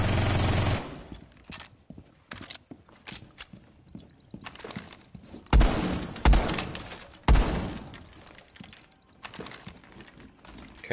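Rapid gunfire in Rainbow Six Siege comes in several sharp bursts and single loud shots, separated by quieter stretches of shuffling footsteps and faint game noise.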